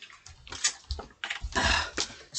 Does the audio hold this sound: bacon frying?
no